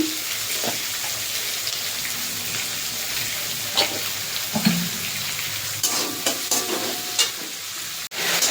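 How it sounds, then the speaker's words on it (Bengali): Two large onions fry in oil in a pan with a little salt, giving a steady soft sizzle with occasional stirring scrapes and clinks, close and continuous, without talk. "পেঁয়াজ এই যে ভাজা হয়ে গেছে"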